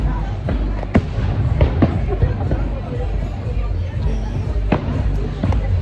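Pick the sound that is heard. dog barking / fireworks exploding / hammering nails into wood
fireworks exploding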